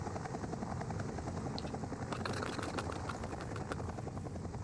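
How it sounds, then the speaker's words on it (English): A helicopter hovers nearby in the survival horror game Resident Evil Outbreak, a steady rapid rotor chop over a constant engine drone, sustained and fairly loud with no talk. "That's the sound of the chopper."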